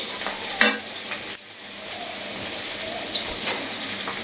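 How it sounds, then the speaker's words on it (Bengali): Onions fry in oil in a kadai wok and turn slightly dark, making a steady close sizzle broken by a few sharp spatters and stirring knocks. "পেঁয়াজ ভাজাটা হয়ে গেছে,"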